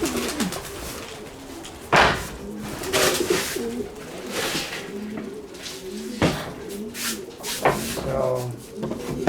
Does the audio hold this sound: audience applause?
no